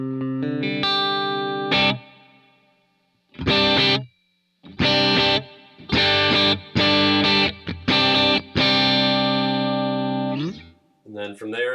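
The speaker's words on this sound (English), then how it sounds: "I just use it as my bass reverb setting, which sounds like this." Electric guitar played through an always-on Neunaber stereo wet reverb pedal gives a run of distorted, sustained chords and notes with short pauses between them and lingering reverb tails.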